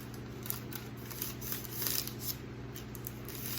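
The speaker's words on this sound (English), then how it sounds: "until you get to where your scissors can cut through." Scissors snip repeatedly through folded parchment paper, a series of quiet crisp cuts at a steady pace over a faint low hum.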